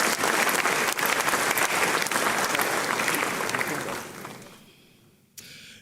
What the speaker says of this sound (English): Shall we do one more big round of applause in appreciation?